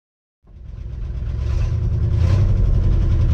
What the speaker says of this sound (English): The truck's got a little bit of lifter noise to it